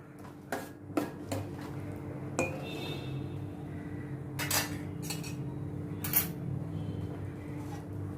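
Chopped carrots, green peas and other vegetables are mixed in a pan for a vegetable methi pulao. Quiet background with scattered sharp clinks and scrapes of a spoon against the metal pan, some clustered together.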